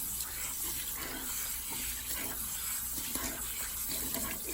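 Water runs steadily from a tap, rinsing hair extensions during a weave wash, a continuous close splashing hiss with no talk.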